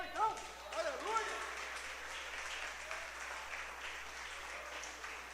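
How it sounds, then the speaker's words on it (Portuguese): A church congregation applauds during a Sunday service, a steady wash of clapping that swells and holds, heard at a moderate distance with a few voices over the start. "Aplauda o Senhor, então."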